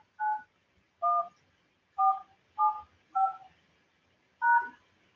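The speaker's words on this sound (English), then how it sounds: "Please re-enter your access code followed by the pound or hash sign." Six DTMF keypad tones enter a phone access code on a conference call line. The tones are clean and distinct, mostly about a second apart, with a longer pause before the last one, and there is silence between them.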